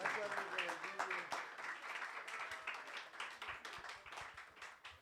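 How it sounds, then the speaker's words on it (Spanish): A small class claps for teacher Miguel, scattered hand claps rising and thinning over a few seconds, fairly quiet, with voices speaking over them. "le damos un fuerte aplauso al maestro Miguel"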